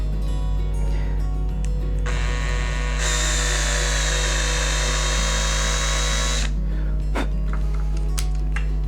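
A power drill whirs steadily, rising to a loud high-pitched grind for a few seconds as it bores into a Telecaster guitar body, then spins down, with a low motor hum throughout.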